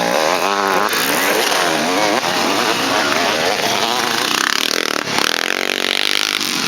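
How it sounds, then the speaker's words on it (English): Old enduro motorcycles running at a race, a loud, continuous raspy two-stroke engine buzz with revving and changing pitch, close by and filling the whole clip. "It's nice to see these old bikes."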